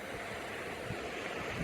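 Mediterranean Sea waves wash onto a beach in a steady, unbroken surf roar with gusty wind across the microphone, no distinct breaks standing out.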